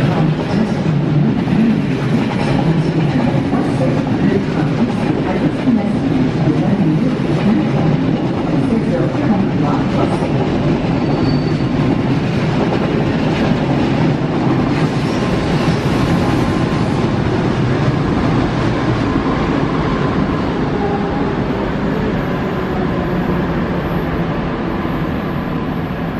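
An intercity train rumbles steadily through Brussels-North station with a continuous low drone and faint rail clatter, while muffled voices and a distant platform announcement come and go.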